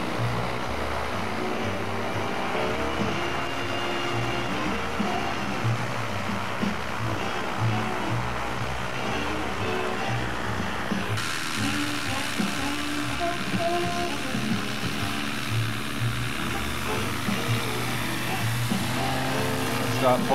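A light aircraft, a Foxhill Bantam, runs its engine and takes off on a clear day, a continuous droning roar that shifts partway through as power changes, with some talk over it.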